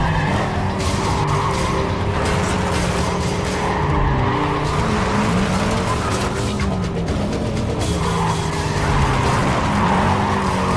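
Race cars in Need for Speed Carbon skid continuously, tires squealing over a loud, sustained engine roar with no letup for the whole stretch.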